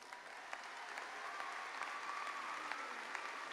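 Graduation ceremony audience applauding graduates: a sustained, even wash of many hands clapping, heard from a distance in a large hall, steady and continuous with faint crowd murmur underneath.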